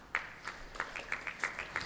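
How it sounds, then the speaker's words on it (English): Sparse, faint claps from a festival audience welcoming a speaker to the stage, scattered hand claps landing roughly every third of a second in a quiet hall. "A round of applause as we welcome Mr."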